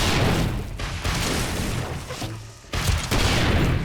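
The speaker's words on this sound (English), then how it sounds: "This is a normal frag rocket, that's why I have to fire so many." Frag rocket launcher firing during a horde night in 7 Days to Die with the Darkness Falls mod: a dense, loud barrage of booming blasts and explosions that runs almost without a break, with one brief lull near the end.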